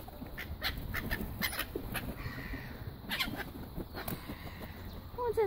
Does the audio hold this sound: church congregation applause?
no